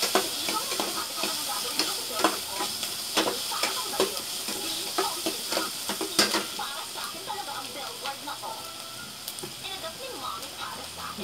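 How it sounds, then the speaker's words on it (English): Garlic and onion sauté in a hot pan, a bright steady sizzle broken by repeated stirring scrapes and clinks of a utensil against the pan. "So we first cook the garlic and the onion."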